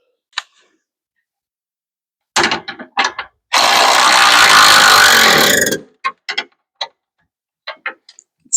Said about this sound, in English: when you own power tools, you should use them.